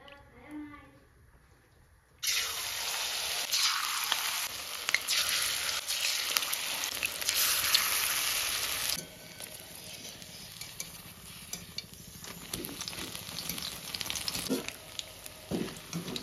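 Chillies hit white oil in a hot wok with a sudden loud sizzle, then fry with steady crackling and spattering that eases into a softer hiss. A spoon occasionally clinks and stirs.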